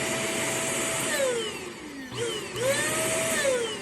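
A Bissell upright vacuum cleaner motor with brush roll running drones steadily with a whining pitch that dips and rises as it revs, running alone at close range.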